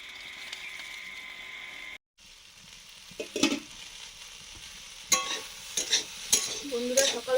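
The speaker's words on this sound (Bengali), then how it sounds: "সকাল সকাল আলু ভাজা হচ্ছে" Potatoes frying in a pan on a home stove in the morning, with a steady background sizzle broken by a short silence and then sharper bursts of stirring and scraping.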